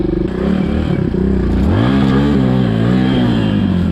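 A Suzuki DR200 dual-sport motorcycle revving off-road while hopping logs, loud and close: a throttle blip, a brief dip, then a rising rev that holds at high RPM with some clatter.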